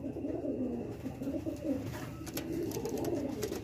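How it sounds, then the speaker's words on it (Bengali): Magnet breed pigeons coo in a steady, continuous low murmur at close range during an evening recording, with faint rustling and light clicks over the top. "অরিজিনাল ধাড়ি পায়রা"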